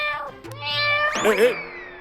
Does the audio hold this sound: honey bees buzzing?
no